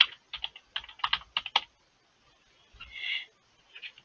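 Keys clack on a computer keyboard as an address is typed, in two quick bursts of close, crisp taps separated by a pause, with a faint soft sound between them and no talking.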